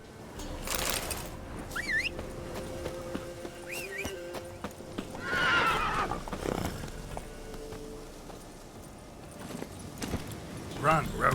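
Horse Roach in a video game neighing and galloping, whinnies and hoofbeats mixed with game sounds while a person talks over them.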